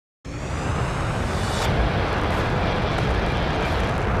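Custom-built jet plane in the video game Flyout roars to life after a brief silence, a loud sustained engine rumble holding steady through the takeoff run with no speech over it.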